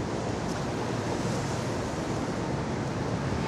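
Sea waves wash onto the city beach of Nice on the Côte d'Azur, a continuous broad surf rush mixed with wind buffeting the microphone, steady and fairly loud with no voices.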